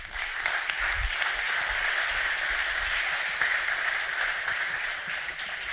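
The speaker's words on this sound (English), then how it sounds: "So give them a big applause, please." Sustained audience applause for a deep tech trends panel at an innovation forum, a dense, steady wash of many hands clapping at fairly close range and at an even level throughout.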